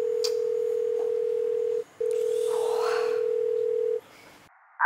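Phone call ringing tone heard through a speakerphone, with two long steady tones separated by a short gap, clear and moderately loud over faint room noise.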